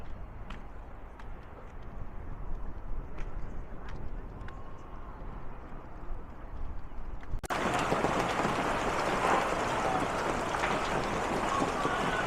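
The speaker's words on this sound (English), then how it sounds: "Looking like a lovely hailstorm hitting you unexpectedly in Sydney." A sudden hailstorm in Sydney, at first a dense crackling patter over wind noise, then jumping abruptly into a much louder, continuous roar of ice striking surfaces.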